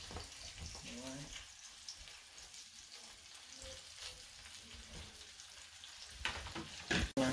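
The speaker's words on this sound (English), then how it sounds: "after parboiling it, fry it a little bit for it to be crispy and nice" Parboiled spinach frying in oil, giving a steady close sizzle with faint stirring and scraping, broken by a couple of louder clatters near the end.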